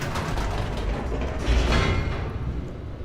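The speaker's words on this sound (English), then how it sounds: "Elevator." Elevator machinery in the video game The Stanley Parable, a mechanical grinding and creaking of gears and ratchets with a heavier clunk midway, steady and close without talk.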